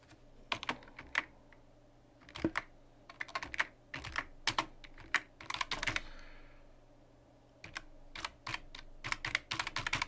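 Fast typing on a computer keyboard while writing Python code, bursts of close key clicks in irregular runs with short pauses, over faint room hum and no talk.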